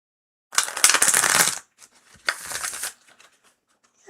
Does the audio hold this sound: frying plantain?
no